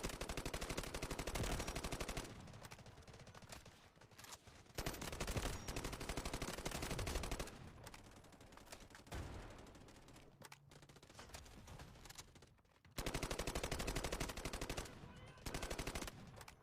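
AK-12 assault rifle firing in the video game Delta Force, with loud, rapid automatic bursts separated by short pauses, close and dense throughout.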